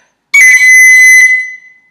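A tin whistle plays a single high-octave note of the Irish tune Scatter the Mud, sounding once for about a second, bright and close, then fading out with no one talking.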